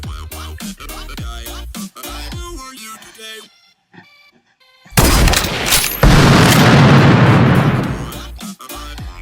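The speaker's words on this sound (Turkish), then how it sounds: "Bu harika bir silahmış." A gun from a Minecraft gun mod fires with a loud, booming blast and a long crackling tail, following a stretch of Turkish speech from a player.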